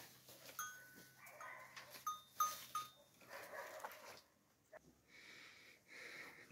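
Sheep bleat in short, wavering calls close by, with a faint bell clinking and soft barn shuffling in between.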